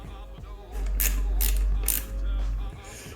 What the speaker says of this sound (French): on va rajouter encore une vis pour que ça tienne parfaitement